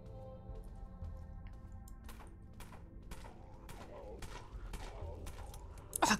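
Gunshots in Dead Frontier, a run of evenly spaced sharp cracks from about two seconds on, fairly quiet under a steady droning game soundtrack, with a louder burst right at the end.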